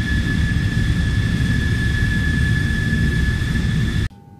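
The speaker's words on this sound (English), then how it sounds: "We need help landing a plane." An airplane engine drones loudly and steadily during an attempt to land the plane, with a constant roar and high whine, then cuts off abruptly near the end.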